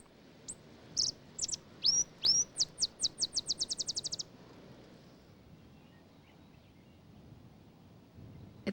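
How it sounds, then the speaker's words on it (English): A male Cassin's sparrow in summer desert grassland of southeastern Colorado gives a chitter call: a few scattered high chips, then a fast, evenly spaced trill of sharp notes that stops abruptly, followed by quiet background hiss. "He communicates with her using his chitter call."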